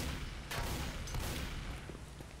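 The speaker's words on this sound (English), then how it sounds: "I'm trying to shoot a gas tank" Rapid gunshots fire at a gas tank in the zombie shooter Left 4 Dead 2, a quick burst of sharp cracks over a dense, noisy game background, fairly faint overall.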